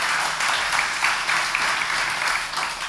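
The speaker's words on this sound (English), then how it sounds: "can a round of applause for our panelists, please?" An indoor audience applauds a gaming-industry panel at a conference, steady dense clapping from many hands filling the room for a few seconds.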